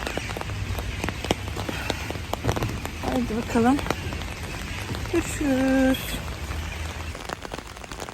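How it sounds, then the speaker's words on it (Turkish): Steady rain patters on surfaces throughout a wet day in İzmir, a constant near hiss beneath a woman's brief spoken remarks, with a few louder tonal sounds passing midway. "Ne kadar güzel yağıyor."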